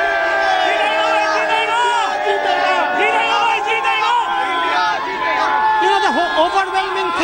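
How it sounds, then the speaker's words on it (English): A stadium crowd at the MCG cheers and roars for India before a cricket match against Bangladesh, a dense, continuous wall of voices with whoops and chatter running steadily throughout. "can we have a cheer for India, please?"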